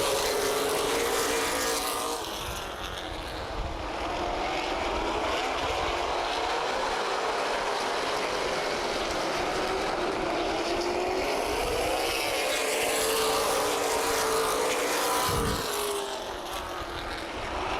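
CRA Super Series stock cars racing at Anderson Speedway, a steady loud roar of several engines at full throttle for the whole stretch, with a pass-by swell near the end.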